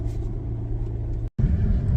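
A Volkswagen Jetta pulls away while rolling coal, giving a steady, loud low engine rumble that cuts out for an instant near the middle and then returns, stronger and rougher.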